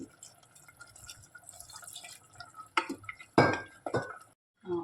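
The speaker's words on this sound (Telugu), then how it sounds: "ఇప్పుడు మనం వాటర్ పోసుకున్నాం కదా" Water poured into a pot of mutton curry with raw mango, rising as a few loud splashing, pouring bursts near the end over low kitchen clatter, then cutting off.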